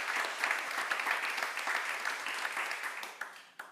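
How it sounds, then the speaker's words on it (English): Conference audience applauding at a climate change governance event, a steady, moderately distant patter of many hands clapping that thins out at the end. "Let's clap Bill."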